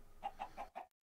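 Minecraft chickens cluck four times in a steady, evenly spaced series, near and clear with no talking over them.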